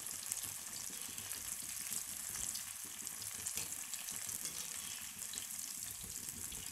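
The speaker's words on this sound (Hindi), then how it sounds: "हुण जिहड़े हाफ फ्राई किए हुए सीगे गोभी दे पकौड़े, उन्हां नूं दोबारा आपां तेल दे विच पावांगे चंगी तरह तलन दे लई।" Half-fried cauliflower pakoras go back into hot oil for a second fry, giving a steady, dense sizzle and crackle that fills the whole stretch, close and even in loudness, with no voices.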